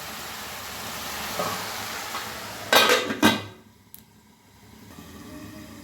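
A lid goes onto a pan of cabbage cooking, a couple of sharp metallic clanks over a soft background sizzle, followed by a quieter, muffled stretch.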